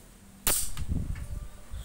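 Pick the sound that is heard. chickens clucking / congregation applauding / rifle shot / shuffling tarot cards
rifle shot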